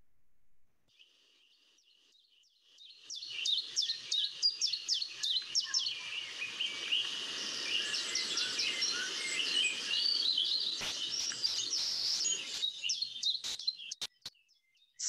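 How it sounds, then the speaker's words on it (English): A dense chorus of high, repeated chiffchaff calls and chirps builds after a quiet start, many birds overlapping continuously, with a few sharp clicks near the end. "the calls that these chiff-chaff birds are making"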